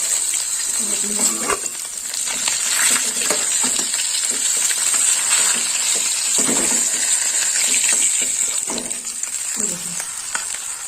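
Food sizzles steadily in hot oil, a loud, continuous bright hiss with faint crackles and occasional stirring over about eleven seconds, close up.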